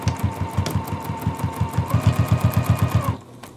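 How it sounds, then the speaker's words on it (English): A sewing machine backstitches across a quilted pillow with a fast, steady mechanical chatter of needle strokes, loud and close, then stops abruptly before a brief quiet. "I am going to backstitch in my stop and start."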